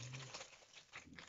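Close, crisp crinkling of white tissue paper wrapping a small cosmetics gift box, in irregular rustling bursts, fairly soft, with no voices.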